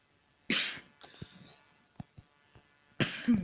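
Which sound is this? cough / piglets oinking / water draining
cough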